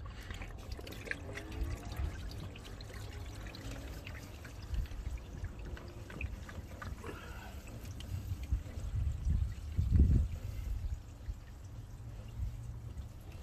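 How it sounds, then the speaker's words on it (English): Water poured into the radiator of a 2013 Jeep Patriot, a soft continuous gurgling trickle that swells into a louder splashing pour near the end before easing off. "Me, I'm just gonna add water because I got half and half."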